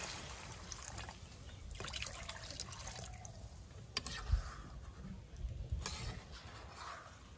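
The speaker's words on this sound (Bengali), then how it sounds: "এখানে পানি দিয়ে দেবো।" Water poured into a small cooking pan (kadai) holding a curry, with a soft, quiet trickling and splashing that runs steadily for several seconds against faint background noise.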